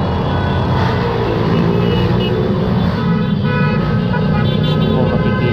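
Dense Metro Manila road traffic roars steadily throughout, with car horns tooting and engines of cars, trucks and motorcycles rumbling close by in a continuous, loud wash.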